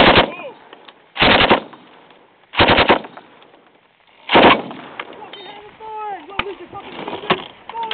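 Bursts from a C6 general purpose machine gun firing tracer rounds in live fire on a range, four loud short volleys spaced a second or so apart, with quieter range noise and voices in between.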